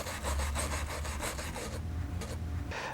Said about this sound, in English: sometimes a wire brush is sufficient to take it off.